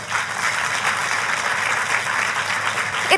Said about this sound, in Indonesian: Tapi boleh gak sih kasih tepuk tangan untuk gembala sidang saudara?